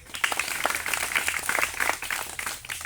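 Scattered audience clapping in a hall, a steady patter of many hands lasting a few seconds at moderate level, with no voices over it.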